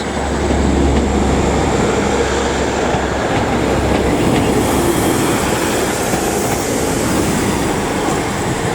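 Class 150 diesel unit 150-003 pulls out of Leeds station bound for Sheffield, a loud, steady rumble of engine and wheels close by with faint rail squeal and clatter, no voices.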